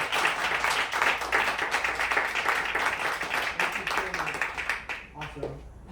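Audience at a North Film Festival screening Q&A in New York applauds the filmmakers, a fairly dense round of clapping mixed with talk and cheering that thins out toward the end.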